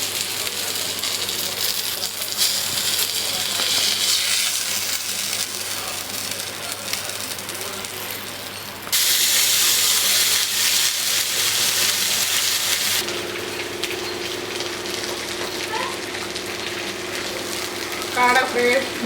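Quail pieces frying in hot oil at home, a continuous crackling sizzle that swells and settles as the pieces are turned, heard under a person talking.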